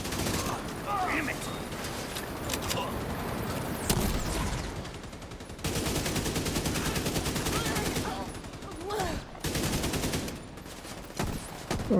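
Light machine gun fire in a first-person shooter video game, sustained bursts of automatic shots with brief pauses, loud and close, mixed with other battle noise and occasional talk.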